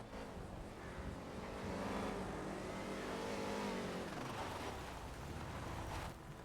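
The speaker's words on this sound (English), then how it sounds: "that car is loud" A loud car engine in GTA V on the NoPixel server revs and roars steadily, swelling in the middle and then dropping off, with no talk over it.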